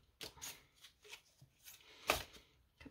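Tarot cards being shuffled and drawn, a series of soft crisp riffles and slides close by with short pauses between, one sharper flick standing out near the end.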